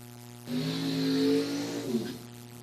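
A 1983 Camaro drag car at a bracket race, a harmonic engine drone that swells abruptly into a louder rev for about a second and a half, then drops back, heard somewhat distant.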